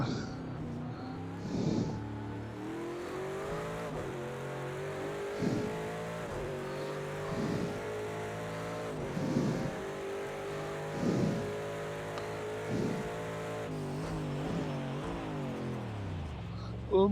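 Racing-game car engine revving repeatedly, rising and falling in pitch through gear changes and slides, with brief tire noise, steady and moderately close throughout.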